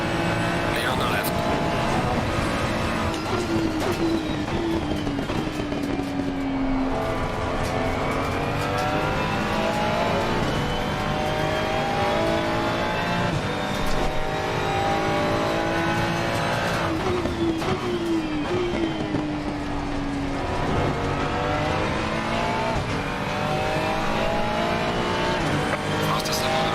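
Race car engine in a VR racing game, revving and shifting pitch continuously as it accelerates and brakes through corners, loud and close throughout, with voices talking over it.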